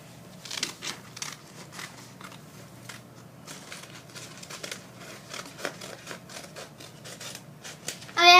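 Scissors snip through folded paper while a paper snowflake is being cut, producing a quick run of close, crisp crunching cuts and rustles with short pauses, then a louder burst at the very end.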